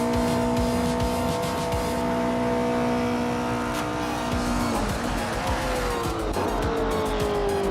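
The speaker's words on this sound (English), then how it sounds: "Radi Zero Activa Vixen is driving a 1965 Ford Mustang GT" A 1965 Ford Mustang GT racing in a video game, its loud engine holding a steady high drone that dips and climbs through gear changes, with tire squeal and skidding on the track.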